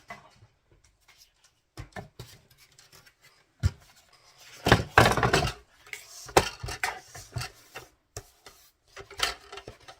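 Scissors cutting paper for an envelope file folder journal, close and crisp, with scattered snips and rustles at first, then a denser run of slicing and paper handling, no talk.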